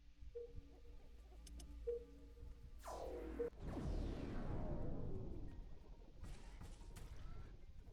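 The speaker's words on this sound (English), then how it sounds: "It's raining." Rain in the video game Riftbreaker: a few short electronic tones and a sweeping whoosh lead into a steady, broad hiss of falling rain that carries on to the end.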